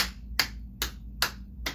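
Four sharp, evenly spaced hand claps, a student clapping against an adult's outstretched palms, each crisp slap about half a second apart over a low steady room hum, close and moderately loud.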